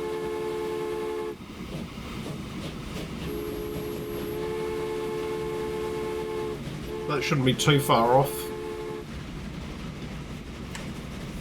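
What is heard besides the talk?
train in the video game Transport Fever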